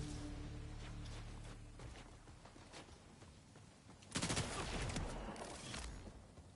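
Rapid gunfire rattles through a Borderlands 4 firefight as a steady rolling stream of shots over game noise, swelling into a louder, denser burst near the end.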